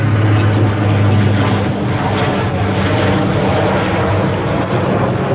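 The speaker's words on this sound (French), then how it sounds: "une armada de 800 avions C-47 font leur apparition" Loud droning of C-47 aircraft engines passing low overhead at a D-Day commemoration at La Fière, a steady propeller roar with a voice speaking over it.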